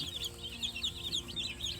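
Guinea fowl chicks cheep in a nursery pen on a farm with high, repeated chirps close by, over faint low background rumble.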